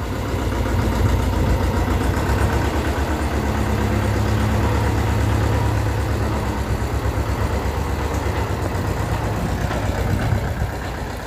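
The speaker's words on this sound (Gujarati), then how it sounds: "ટ્રેક્ટર જાય છે" A farm tractor in a village passes close by, its engine a steady loud low chugging rumble that holds for the whole stretch with no voices.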